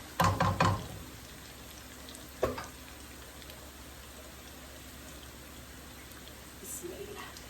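Onions frying lightly in oil before hilsa fish goes in, heard as a faint, steady sizzle with a few louder clatters and stirs near the start and another around the middle, close and quiet, no voices.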